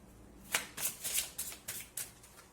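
Cards are shuffled and drawn for a tarot-style card reading, a quick run of about seven crisp riffling swishes close by, with no talking during them.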